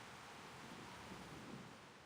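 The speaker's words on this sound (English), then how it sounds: "The rain subsides" Steady, dense rain with a low rumble of thunder in the game Reverse: 1999, a constant even wash of noise at moderate volume with no voices.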